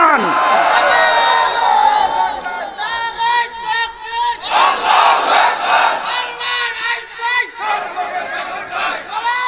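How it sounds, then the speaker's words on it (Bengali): A large crowd at an Islamic religious gathering shouts the takbir in unison, loud and close, repeated in surging waves of massed voices with a lead voice calling out between the collective responses. "দুই হাত তুলে আল্লাহর নামে তাকবীর দিয়ে দেখান"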